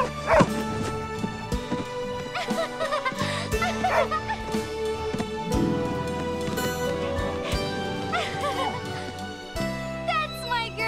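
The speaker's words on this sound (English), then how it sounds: "Boy, that's some dog." A cartoon collie barks, yips and whimpers in short bursts over a music score, near and clear, with jingling accents.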